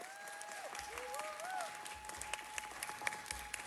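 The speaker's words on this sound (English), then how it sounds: "Give them a round of applause." An audience applauds a dance troupe at a city council meeting, steady clapping that stays fairly faint and distant, with a faint whistle or tone running through it.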